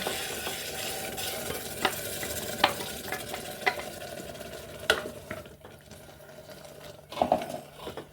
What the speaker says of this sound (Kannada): ಈ ರುಬ್ಬಿರೋದನ್ನು ಮಿಶ್ರಣ ಹಾಕೋಣ.